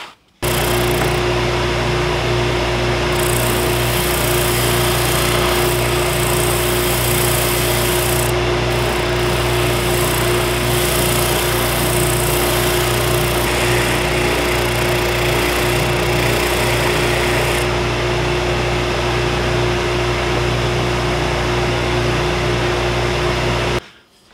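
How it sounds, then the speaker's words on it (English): A power sander works the heel and volute area of a set-neck guitar neck, a loud continuous motor whine with steady grinding that runs unbroken from start to finish, close and without talk. "next step is to cut these, or I should say sand these out, this area right here for the heel, and this area right here for the volute."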